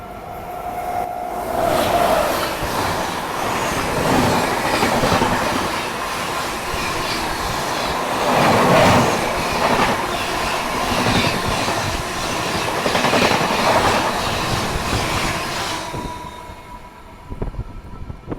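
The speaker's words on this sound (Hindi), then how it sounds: "अभी जो ट्रेन निकली वो थी पुणे कन्याकुमारी एक्सप्रेस" The Pune–Kanyakumari Express rushes past close by, a long loud roar of rail wagons with rhythmic clickety-clack and some wheel squeal, fading near the end.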